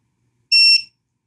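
Piercing electronic buzzer beep from a Flywoo Explorer LR long-range quadcopter, a single short tone lasting about a third of a second, loud and close in an otherwise silent space.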